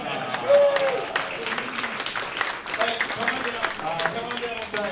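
Audience at a tech demo night applauds, a moderate, uneven burst of clapping from a room of people that rises and fades, with some voices mixed in.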